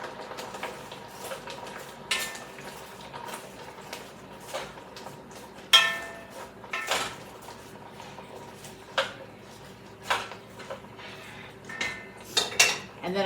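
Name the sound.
stirring chicken meatball and cabbage soup in a pot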